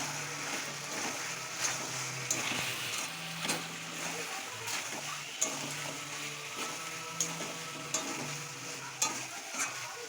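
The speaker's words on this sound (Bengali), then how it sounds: "জলটা ঢেলে দিচ্ছে।" Turmeric and chili powder fry in a pan as water goes in. A soft, continuous sizzle runs under repeated stirring scrapes and light clinks of a utensil, fairly quiet and close.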